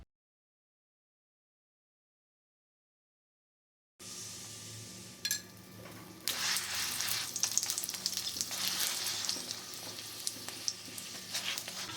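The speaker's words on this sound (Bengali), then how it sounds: "পরোটাটা ভেজে নেব।" Paratha frying in white oil on a flat pan for a methi paratha: silent at first, then a steady sizzle rises after about four seconds and grows busier and crackling, with no talking.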